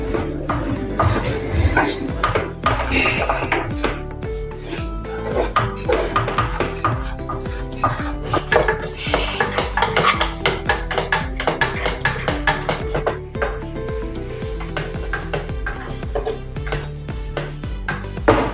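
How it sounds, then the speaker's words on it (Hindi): A spoon scrapes and knocks steadily in a pan while roasted coconut and besan barfi mixture is stirred, a repeated rhythmic clatter and shuffle that runs the whole time. "और नारियल का बुरादा भी इसमें डाल देंगे भुना हुआ। अच्छे से इसको अभी मिक्स करेंगे।"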